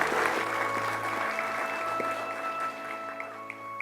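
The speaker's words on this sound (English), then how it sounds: "Let's give them all a big round of applause." Applause from the audience at a police ceremony honoring officers, a steady clapping wash heard through a room mix with some tonal hum alongside, continuous and moderately loud with no speech.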